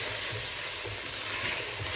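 Tomato paste sizzles steadily in a hot pan, a close, continuous crackling hiss with no break or voice over it.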